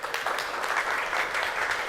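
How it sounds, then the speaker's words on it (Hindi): A game-show audience applauds loudly, many hands clapping in a thick, continuous wash of sound. "जोरदार तालियां हो जाए इनके लिए"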